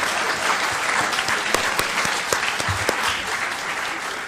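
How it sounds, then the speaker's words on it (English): Steady applause from a seated audience at a talk, a dense wash of many hands clapping at even strength with a few sharper individual claps standing out. "Thank you for clapping"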